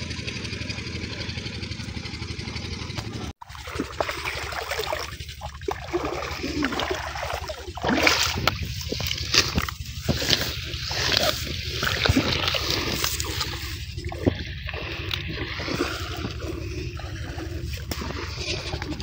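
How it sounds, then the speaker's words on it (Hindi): Water gushes from a newly drilled tube well in a village, a continuous loud rushing flow over the steady drone of a pump engine. "नया बोर कराने की वजह से पानी फुल आ रहा है।"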